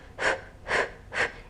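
Three steady, evenly spaced breaths pushed out during a Pilates ab workout, close and fairly loud with soft gaps between them.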